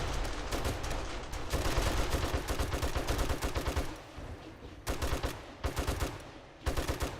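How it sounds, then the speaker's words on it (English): Automatic turrets firing in 7 Days to Die, rapid dense bursts of gunfire rattling almost continuously, with brief pauses between volleys near the end. "I could let the turrets do all the work."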